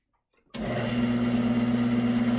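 A bandsaw starts up and runs steadily through a single smooth cut in a wooden bandsaw box, a loud continuous motor hum with a strong steady tone, beginning abruptly after a brief silence.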